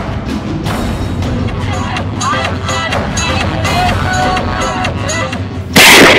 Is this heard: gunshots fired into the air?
yes